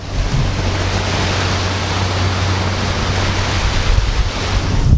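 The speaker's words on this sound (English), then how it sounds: "we're by the water, so there's of course a really nice breeze." Steady wind rushes by the water at New York Harbor, a continuous loud breeze buffeting the microphone with a low rumble and no breaks.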